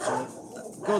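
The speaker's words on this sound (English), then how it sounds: "that's my dog" A dog gives two short, high whimpering yips close by, one at the start and one at the end, separated by a brief quieter gap.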